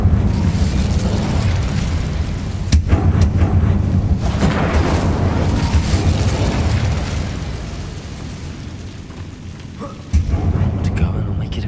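A loud, roaring fire spell burst in a Hogwarts wizard game fills the space with a sustained rumbling blast that slowly fades, with a sharp crack early on and another boom near the end.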